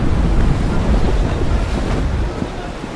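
Ocean swells and surging waves in the Naval Action sailing game, a loud, constant rushing wash with wind, steady throughout, with a faint voice underneath.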